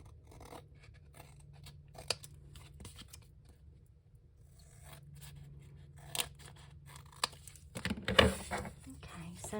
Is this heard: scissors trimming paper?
yes